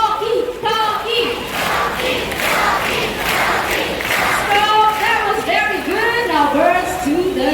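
Audience at a bird park show claps and chants a scarlet macaw's name, a dense crowd roar with rhythmic shouting close by and loud throughout.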